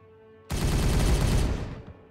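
Weapon fire in Warhammer 40K Regicide, a sudden loud burst of rapid shots that starts abruptly and keeps going for over a second before cutting off, heard with no talk.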